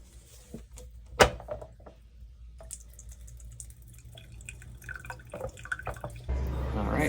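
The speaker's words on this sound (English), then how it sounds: "The Sawyers have been moving pretty slow when we're filtering, so it's definitely time for a back flush." A Sawyer water filter is back-flushed on a trail, with close, irregular drips and splashes of water, a sharp knock near the start and a louder rushing flow toward the end.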